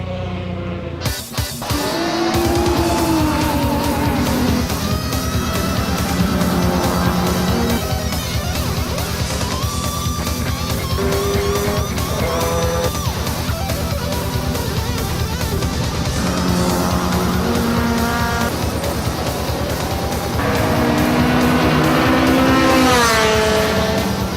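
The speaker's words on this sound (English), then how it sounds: "I'm here at a circuit today where a race is about to go on" Race cars run on a circuit before a street-racing event, engines roaring loud and continuous with rising and falling revs and gear changes as cars pass close by, no talk over the steady engine noise.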